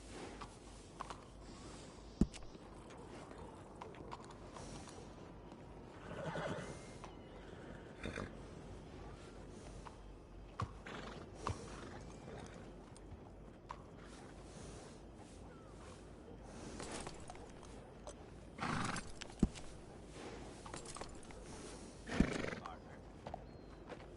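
A starving horse in Red Dead Redemption 2 neighs and whinnies several times, with clopping hooves and shuffling around it, fairly quiet overall with occasional louder bursts and some talk mixed in.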